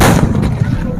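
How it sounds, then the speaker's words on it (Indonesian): A single firecracker goes off with a loud, close blast in a village during Lebaran celebrations, and its boom rumbles briefly before fading away. "Aku takut sama mercon tuh."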